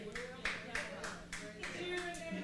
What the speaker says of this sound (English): Will you help me clap your hands for my wife?